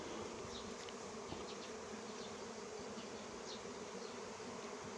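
A dense, continuous buzzing of a honeybee swarm entering a hive, steady and close, with no voices.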